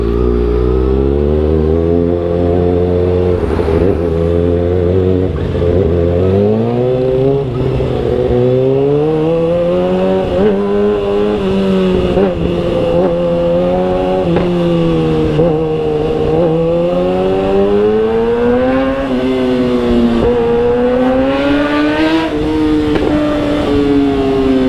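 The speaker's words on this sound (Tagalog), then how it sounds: "ang hirap ilabas ng motor na ito" Motorcycle engine running steadily close by, its pitch rising and falling as it revs, loud and continuous with no talk.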